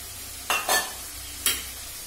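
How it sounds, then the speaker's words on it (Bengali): Prawns with mustard and poppy seed paste are stir-fried with a little water in a wok, a soft continuous sizzle under three quick scraping strokes of a spatula, two close together then one more. "ভালো করে ভেটে নেব।"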